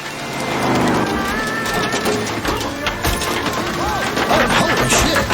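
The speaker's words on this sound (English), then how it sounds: "It's raining." Steady rain patters loudly and densely on a surface, with scattered heavier drops and faint voices mixed in underneath.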